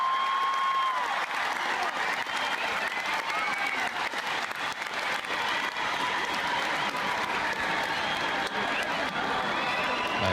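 A large concert crowd applauds in sustained, dense clapping that stays loud and even throughout, with faint cheering mixed in.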